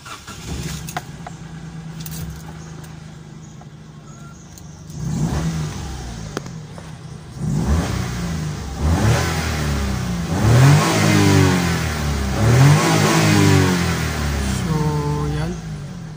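Car engine with a check-engine light and a low-power fault, starting at idle and then revving up and down repeatedly with rising, swooping pitch, close and fairly loud, with a voice briefly heard at the beginning.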